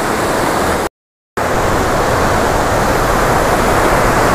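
Steady broadband rushing of water like a waterfall beside a riverside campsite in Uthai Thani, Thailand, continuous and loud, broken by one short dead-silent gap near the start, with no voices.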